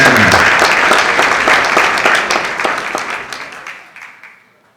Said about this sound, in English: Give a big applause, ladies and gentlemen.